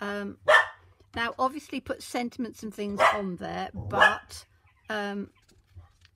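A pet dog barks in short sharp bursts repeatedly from nearby, mixed in with someone talking over a stamping craft session.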